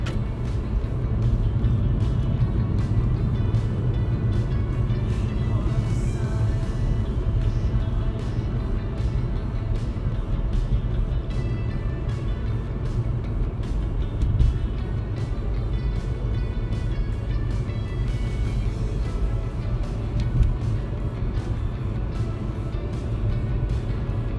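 Steady road traffic heard from inside a car in a lane-closure area with road works in Melbourne, a continuous low engine and tyre rumble with occasional passing vehicles, fairly loud and without talk.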